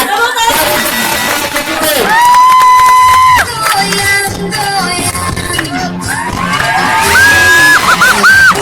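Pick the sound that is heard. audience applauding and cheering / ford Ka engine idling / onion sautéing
audience applauding and cheering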